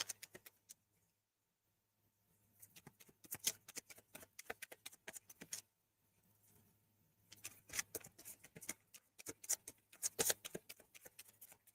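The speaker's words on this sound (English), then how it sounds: "let's do this deck again. I'm going to shuffle it one more time here." A deck of tarot cards being shuffled, quiet riffling bursts and soft flicks in two spells separated by a brief pause, close and alone.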